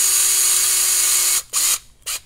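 A cordless power drill drives screws into a Traxxas TRX-4 RC crawler kit during assembly, a loud steady whirring run that stops abruptly, followed by two short bursts close by.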